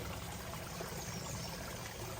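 A small mountain stream runs out from beneath rocks, a steady broadband rush of flowing, trickling water heard close and continuous with no talking.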